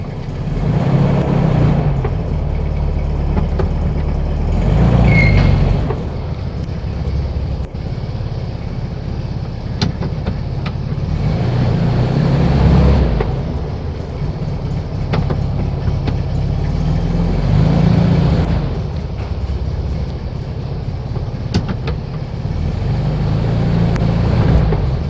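A 1964 VW Beetle with a newly installed transmission, fitted with an EMPI transmission strap and Bowden tube, drives along with a steady low engine drone that swells and eases through gear changes, with no talk.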